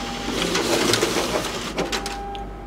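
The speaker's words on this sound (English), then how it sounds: "we're now scanning a document and uploading it directly into my Google account using the bizhub connector" A Konica Minolta bizhub copier scans a document through its automatic feeder, a steady mechanical whir with a few short clicks and sliding knocks, close and alone over about three seconds.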